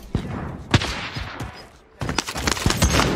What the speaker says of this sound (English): I'm getting shot by a different guy while I'm trying to shoot this other guy